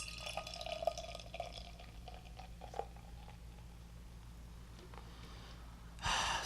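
Other Half Brewing beer poured into a glass, a faint continuous liquid trickle with small drips and fizzing, quiet and close, with a louder rustle at the very end.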